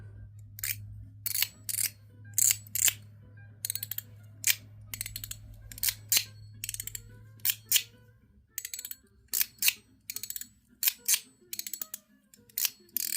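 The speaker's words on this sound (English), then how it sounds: "So it's 6 clicks either direction." Crisp mechanical clicks from a WM EDC mechanical slider with a toggle switch, coming in quick close-up bursts and single snaps spread across the whole stretch, over a low steady hum in the first half.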